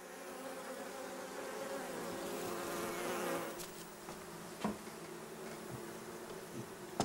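Honey bee drones buzz around a hive in a dense, steady drone that swells and fades. Individual bees pass close by, with no voices.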